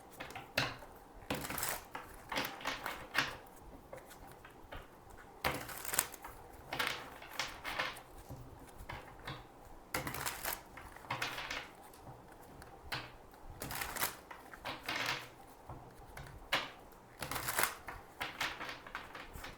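Tarot cards are shuffled and drawn, making repeated crisp riffling and slapping bursts in irregular clusters, close by and fairly soft, with no voice over them.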